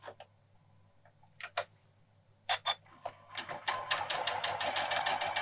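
Janome sewing machine topstitching along a seam with an edge guide foot, starting with a few short separate stitch bursts, then running steadily in rapid repeated ticks, close and alone.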